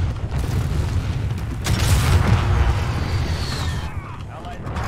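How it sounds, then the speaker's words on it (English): One heavy explosion from a precision airstrike in a video game booms and rumbles for about a second, then fades into low background noise. "Caught in a precision airstrike in my own here"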